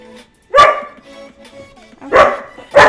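Three sharp dog barks ring out close and loud, a first burst followed by a gap of low rustling and then two quick barks near the end, from dogs quarrelling over a bone indoors.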